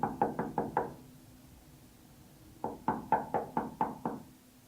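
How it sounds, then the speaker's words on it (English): Knocking on a front door comes as two clear sets of rapid raps, five then seven, sharp and close, with a quiet pause between them. "Because someone's knocking on the front door."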